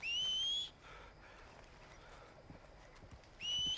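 A horse in Red Dead Redemption 2 arrives on a game soundtrack with a sharp two-note whistle at the start and end, and soft clip-clop hoofbeats approaching in between.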